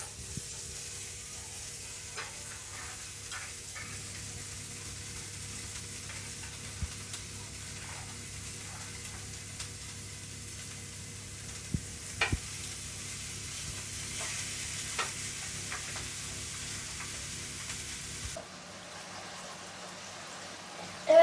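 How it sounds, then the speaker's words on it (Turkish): Hamburger patties sizzle in a preheated oil-free pan with a steady, soft frying hiss, broken by occasional small pops and clicks before the sound cuts off near the end. "bir süre önce ısıtmış olduğumuz ve yağsız tavamıza köftelerimizi koyuyoruz"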